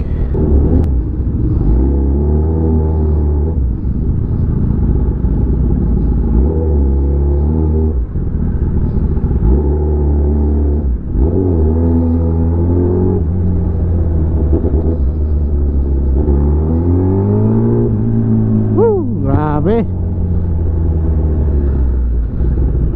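Kawasaki ZX10R motorcycle engine rumbling steadily in traffic on a short ride to a gas station, a continuous loud low drone with swells of revving, rising into a brief higher-pitched rev near the end.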